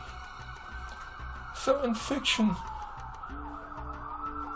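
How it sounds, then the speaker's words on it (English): An ambulance siren wails steadily under the scene, with someone speaking over it in a tense domestic moment. "the ambulance is coming."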